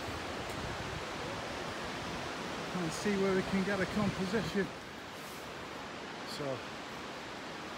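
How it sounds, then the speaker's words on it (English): Steady broadband rush of a waterfall tumbling at Gordale Scar, a constant wash of falling water filling the scene while someone speaks briefly over it partway through. "There's plenty of water falling down, if you can hear me."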